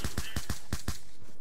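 A small gun firing in Black Ops 2, a rapid run of about six loud, close shots in quick succession, each a punchy broadband crack that then fades.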